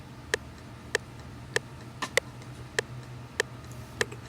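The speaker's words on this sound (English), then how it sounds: "This is what the rim sounds like." A drum machine's rim shot clicks in a steady pattern for a 2000s-style beat, about eight sharp, dry taps at an even pace over faint background hum.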